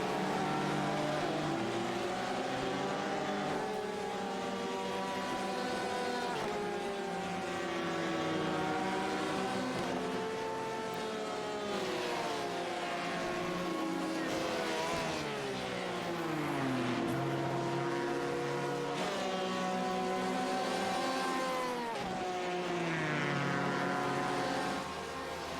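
Race cars run timed qualifying laps at a circuit with corners such as Maggots, Becketts and Chapel, a continuous layered engine drone with several cars rising and falling in pitch as they pass, loud and sustained without talk.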